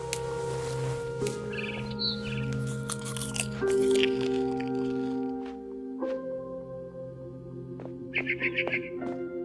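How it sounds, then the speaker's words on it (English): Eating and crunching in the video game What Remains of Edith Finch: repeated close, crisp bites and chewing crunches, with a few high bird chirps near the end. "I ate a lot of things that night."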